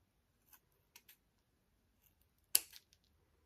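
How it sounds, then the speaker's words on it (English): Scissors trim the bottom of a small cast resin piece, several quiet snips followed by one sharper, louder cut, all close by in a quiet room. "take scissors"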